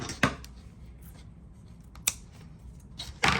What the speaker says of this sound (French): Je coupe mon fil par la suite.